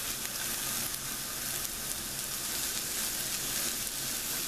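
Chopped onion sizzles steadily in a hot frying pan, a bright, even crackle that runs without a break while a healthier chimichanga filling is cooked.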